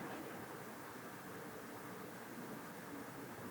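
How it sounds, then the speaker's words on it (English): White noise from a SynthEdit software synthesizer passed through a filter, a steady, dense, even hiss that stays at constant loudness throughout, with no talking over it. "Let's go with white noise. So we can kind of hear it happening with the white noise."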